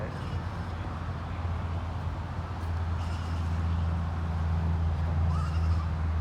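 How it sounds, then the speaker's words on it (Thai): Sheep bleat now and then at a farm over a steady low drone of distant traffic, fairly faint, with people talking nearby. "เลี้ยงแกะ เลี้ยงแพะ"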